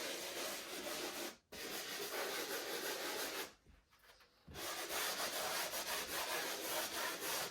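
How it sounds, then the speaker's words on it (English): Sponge sander scuffing dried drywall compound on a patched hole, a steady, close rubbing and scraping that continues without a break except for two short pauses. "you're going to take your sponge sander. You're going to give it just a little scuff, just to take off any high spots."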